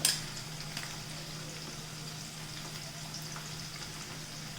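Broad beans frying in a pan while a chilli chutney is made: a soft, steady sizzle and crackle runs evenly throughout, fairly faint, with a brief louder crackle at the start and no talking.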